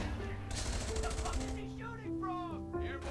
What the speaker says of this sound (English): snipers shooting the airborne T squads